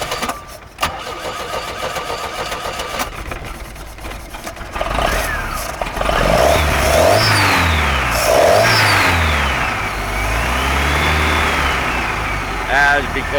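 A Mercruiser 140 hp inboard boat engine cranks, catches and revs up, the rough mechanical clatter giving way to a loud, rising and falling engine roar with repeated throttle swells, while a voice talks over it.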